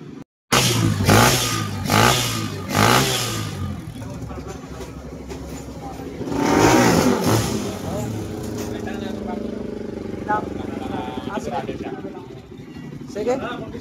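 A stock Kawasaki RS200 FI / Fury 125 motorcycle engine, one that had stopped running, is brought back to life and revved in several loud, close bursts. A rougher idle follows, with people talking nearby throughout.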